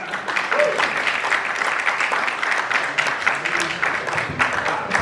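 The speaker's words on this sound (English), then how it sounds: "give a round of applause" An audience at a stage magic and hypnotism show applauds volunteers coming up, a full, steady burst of many hands clapping with a few crowd voices mixed in.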